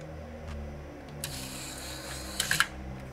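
The small 5-volt motor of a DVD player runs on test with a faint, close mechanical whir and a few brief clicks near the end.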